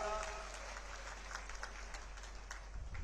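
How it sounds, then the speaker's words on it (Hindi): Audience clapping at a political public meeting in Rewa, Madhya Pradesh, a steady wash of applause from a crowd, fairly distant and moderate, over about three seconds. "अभिनंदन करें, जोरदार ताली बजा के राष्ट्रीय अध्यक्ष माननीय नड्डा जी का।"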